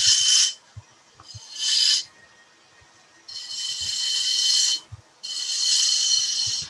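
A wood lathe turns while a tool cuts shavings, producing close bursts of bright rasping hiss, two short passes followed by two longer sustained cuts, with faint low thumps between them.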